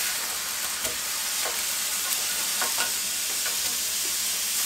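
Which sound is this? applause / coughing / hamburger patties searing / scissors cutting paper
hamburger patties searing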